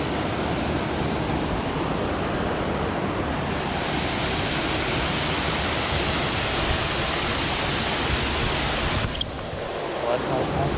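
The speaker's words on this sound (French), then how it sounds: "La fameuse cascade aux Écrevisses." Cascade aux Écrevisses, a waterfall in Guadeloupe, roars as a dense, steady rush of falling water close by, continuous and loud throughout with no break.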